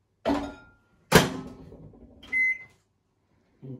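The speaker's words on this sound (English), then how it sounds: "I'm gonna put it in the microwave." A microwave oven used to heat a cup of milk: a door thunks shut, a second clunk follows, then a short beep and a faint hum as it starts.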